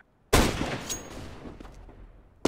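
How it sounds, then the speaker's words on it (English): A flashbang grenade goes off in a tactical shooter game, a sudden sharp burst after a brief silence that rings and decays over about two seconds, with a second hit cutting in at the end. "I'm throwing flashbang."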